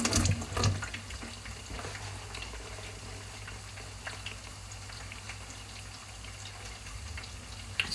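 Water running from a kitchen tap during pakora cooking, a steady continuous rush with a brief louder burst near the start, moderately close and alone without talk.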